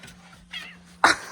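A cranky pet cat in a cabin gives a brief, sharp vocal outburst near the end, after a softer earlier sound, with quiet room noise around it.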